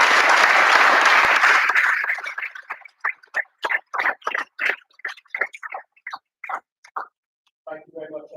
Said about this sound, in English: Round of applause for Ollie.